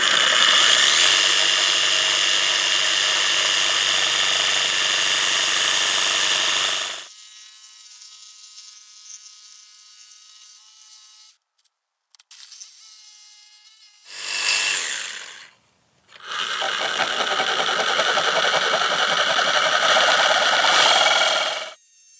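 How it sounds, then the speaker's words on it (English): A Sawzall reciprocating saw cuts into the engine case of a Kawasaki Z400 motorcycle, loud buzzing bursts broken by quiet gaps and a brief stop-start, with no talking. "So I guess I'll take the trusty Sawzall and go to town."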